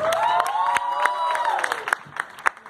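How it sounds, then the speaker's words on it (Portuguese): An audience at a drag ball competition in Ceará cheers for a performer: sharp, scattered claps under loud whooping and high-pitched shouts that rise and fall, fading into sparser claps. "Palmas para Nando!"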